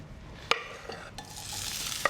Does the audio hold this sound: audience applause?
no